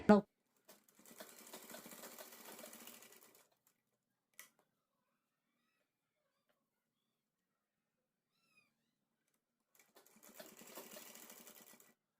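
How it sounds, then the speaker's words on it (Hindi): A sewing machine stitches a button placket on a child's pathani garment in two short, quiet bursts of rapid mechanical whirring separated by a long silence, with a sharp tap near the start. "इस तरह से रखते हुए हम यहाँ से यहाँ तक सिलाई लगा लेंगे।"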